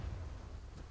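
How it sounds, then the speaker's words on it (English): Rain with a low rumble of thunder in a video game, a quiet steady hiss of falling rain over a deep, faint roll lasting about a second, with no talk. "Yeah, it's raining."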